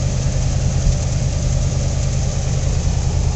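A 1958 Cadillac V8 runs at a steady idle after sitting for 15 years, with broken-off dual exhaust: a loud, close, continuous low rumble with an even throb and no voices.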